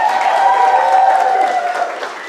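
An audience at a Rush Athletics celebration night applauds, a loud, dense wash of clapping and crowd noise that fades slightly toward the end.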